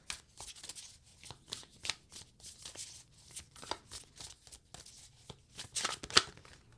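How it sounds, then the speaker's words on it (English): Tarot cards are riffled and shuffled by hand in quick, close, crisp flutters with small taps and slides, ending with a card flipping over, in a quiet room with no talk. "a card did flip over"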